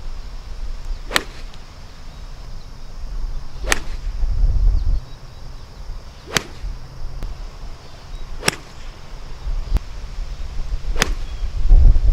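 Several sharp, solid but slightly dull clicks of a Maltby TS-1 forged iron hitting a golf ball, spaced a few seconds apart over quiet outdoor background noise.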